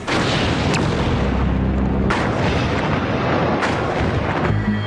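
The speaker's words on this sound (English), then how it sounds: "a hydrogen explosion blows out the top of Unit 3" A loud, rumbling hydrogen explosion blowing out the top of Fukushima's Unit 3 reactor building, with booming bursts and continuous heavy roar, several sharp impacts punctuating the dense noise.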